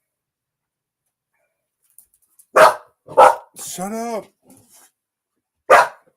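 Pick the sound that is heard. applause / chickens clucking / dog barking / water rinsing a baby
dog barking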